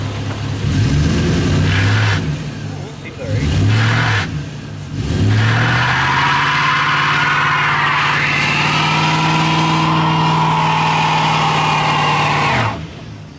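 A truck engine revs hard, drops away twice in short bursts, then roars up again and holds a long high whine as the dual wheels spin and peel out, loud and close, with no talk.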